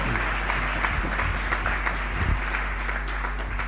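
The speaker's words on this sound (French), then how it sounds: "Let's clap the Lord." A church congregation claps continuously in a dense, steady patter throughout, with a low hum underneath.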